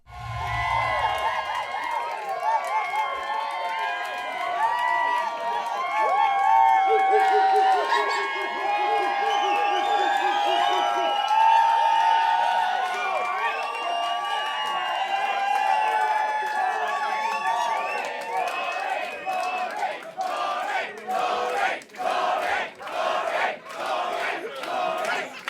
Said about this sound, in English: Miss Rory, who, as usual, milked the applause for all it was worth